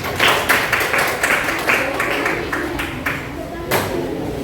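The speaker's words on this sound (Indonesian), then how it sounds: "Beri tepuk tangan." A classroom of students in an Indonesian teacher-training lesson applauds a group's presentation with a burst of quick, fairly close hand claps mixed with voices and room chatter.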